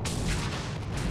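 Dense battle noise from the video game Armored Brigade, with gunfire and heavy booming hitting a Leopard tank, a thick continuous rumble with no clear gaps between blasts, loud and close.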